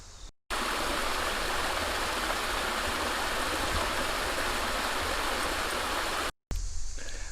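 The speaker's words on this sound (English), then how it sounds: "There's a creek running back here at the bottom of this." A creek running through a forest creek bottom: a steady, close, broadband rush of flowing water continuing without pause, briefly cut at the start and end, with no voices.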